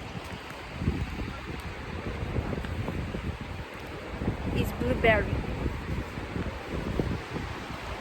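Gusty wind rumbles and buffets the microphone outdoors on rural land in Finland while a person talks briefly nearby.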